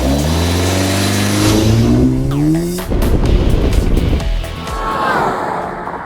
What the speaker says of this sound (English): Why does the frequency of the engine change as the car passes?